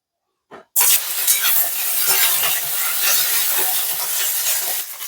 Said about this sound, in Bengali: এরপর ওই তেলটাতে আমি ঢ্যাঁড়সগুলো একটু ভেজে নেব